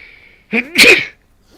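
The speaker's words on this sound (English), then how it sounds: "I gotta sneeze." A single close, loud sneeze with a sharp intake of breath before the explosive burst, followed by quiet.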